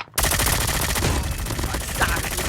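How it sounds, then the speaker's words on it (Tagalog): Video game gunfire rattles in a dense burst of rapid shots and crackling fire, loud and continuous after a brief quiet start. "May naririnig ako nagbabarilan dito."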